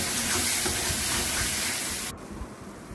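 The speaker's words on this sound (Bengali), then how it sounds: "এবার এটাকে আমি তেলের মধ্যে খুব ভালো করে নাড়ব।" Spice paste stirred into hot oil in a pan while cooking banana peel, a loud steady sizzle and hiss that drops off sharply near the end, leaving a quieter crackle.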